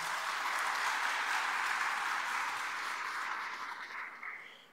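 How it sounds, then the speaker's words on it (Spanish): Audience applause at a public accountability event, a dense wash of clapping that holds steady and then begins to fade toward the end. "Un fuerte aplauso por ello, por favor."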